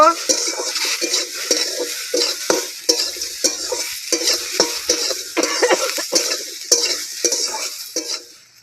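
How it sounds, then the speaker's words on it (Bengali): Slit green chillies and chopped tomatoes with onion are stirred in a hot pan, a spatula scraping and clacking in uneven strokes over a steady sizzle. "চেড়া করা লঙ্কা কেটে রাখা টমেটো খানিকটা নেড়ে চেড়ে নেব"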